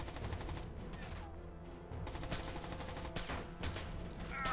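Gunfire during play of the shooter game Rainbow Six Vegas, with a series of sharp, close shots from a pistol popping irregularly over a busy, noisy game soundscape.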